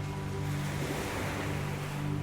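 Sea waves wash onto the shore in a steady surf with a soft, rushing roar that holds even throughout, used as a sound effect in a bedtime audio drama for children.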